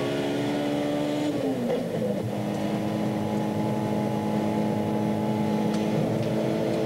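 Onboard a 1991 BMW Group N touring race car, the engine drones loud and constant with steady harmonic tones that dip briefly as it shifts, then hold steady under wind and road rumble.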